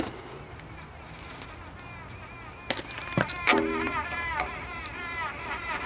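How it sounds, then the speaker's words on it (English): Bees buzz steadily inside an old, rotted outdoor vent, a continuous insect drone with a faint voice joining near the end. "Oh, sounds like bees."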